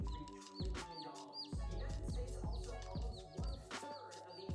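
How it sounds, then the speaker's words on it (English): Repeated high, thin chirps like a baby duck's peeping come in short bursts over a steady low droning background, fairly close and clear. "And do you guys hear chirping?"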